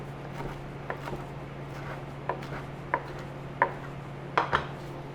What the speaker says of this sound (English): I'm just gonna give it a quick chop before throwing it in the blender